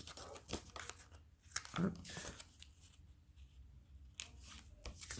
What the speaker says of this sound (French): Donc, on coupe les angles.